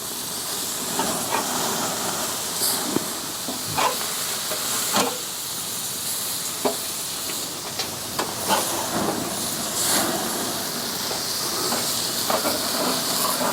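Char-grilled sloppy joe meat hisses loudly on a hot grill just after being flipped, a dense continuous sizzle with scattered pops and crackles throughout.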